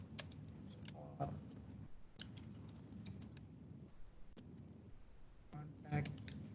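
Fingers tap a computer keyboard in quiet, irregular clusters of light clicks, close by, with someone speaking intermittently over the typing.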